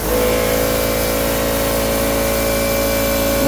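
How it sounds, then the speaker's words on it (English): An air compressor runs continuously in a shop during painting of a 1956 Ford, a loud, steady droning hum with a faint pulsing throb that stays constant from start to finish. "I'm gonna let that compressor stop over there."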